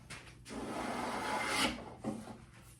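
A hand plane shaves a continuous curl off a wooden board during a tool box build, giving two or three loud, rasping swipes in close succession, each rising to a peak and then breaking off.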